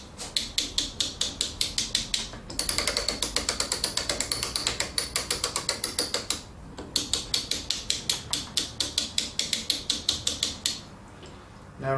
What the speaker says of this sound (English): We're now going to grease the gears by rotating the winch handle